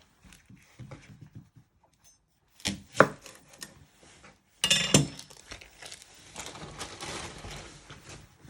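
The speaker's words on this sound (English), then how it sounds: "You first want to get your spring onions, and you want to chop the ends off." A knife chops spring onions on a cutting board for a chicken burrito salsa, giving a few close, sharp knocks at first, then a burst of fast, steady chopping with light clinks near the end.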